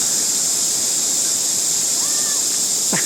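Mae Ya waterfall crashes over rocks in a continuous, loud, even roar with no break, accompanied by a faint brief whistle-like tone and a tiny chirp near the end.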